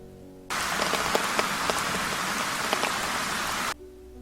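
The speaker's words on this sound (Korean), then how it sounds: "부슬비가 내리던 어느 날" Light drizzling rain pattering on a surface, a steady close wash of fine drops that starts abruptly and stops just as suddenly a few seconds later, with no voices.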